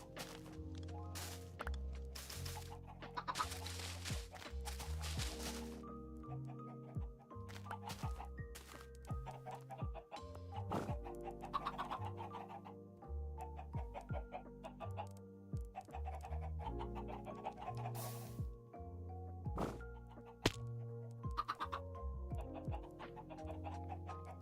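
Chicken in a video game clucking and squawking repeatedly over a long stretch, mixed with game music, thunks and other effects, at moderate loudness.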